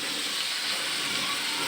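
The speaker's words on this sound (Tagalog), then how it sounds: "So, lalagyan na natin siya ng toyo." Soy sauce hits half-cooked pork adobo in a hot pan, giving a steady, loud sizzling hiss that stays close and unbroken for the whole moment.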